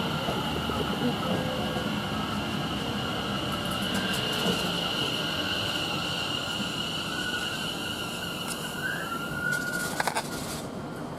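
Greater Anglia train at Chelmsford station, the 1309 service from Colchester to London Liverpool Street, with a steady rolling rumble and a high whine throughout, plus a few brief metallic clanks near the end.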